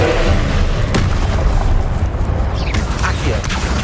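Confringo blasting spell explodes in Hogwarts Legacy: a loud, sustained rumbling boom that fills the whole moment, with a sharp crack near the start and faint swishing effects over the roar.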